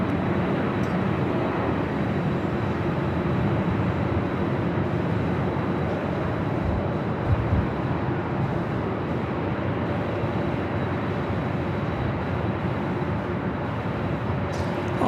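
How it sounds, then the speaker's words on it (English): United Boeing Dreamliner jet airliner taking off from the south side runway at LAX, a steady, loud broadband engine roar that holds evenly for the whole stretch without talk. "Have a United Dreamliner taking off on the south side."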